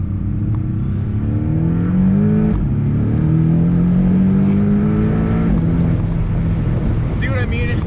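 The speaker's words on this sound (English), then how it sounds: "I can hear the turbo spooling up" A Porsche 718 Boxster convertible's turbocharged engine drones loudly from inside the open cabin, its pitch rising in repeated sweeps as it accelerates, under steady wind rush.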